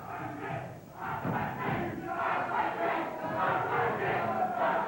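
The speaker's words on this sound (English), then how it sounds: "And a spirited crowd here at our wrestling studio" A lively, noisy crowd at a small professional wrestling studio in Tampa, Florida, shouts and cheers without letup, with rising and falling waves of yelling and a few thuds underneath.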